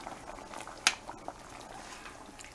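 Dry lima beans simmering with tender meat in a pot, a soft bubbling liquid hiss with faint pops and one sharper clink or splash near the start, quiet and steady with no voices.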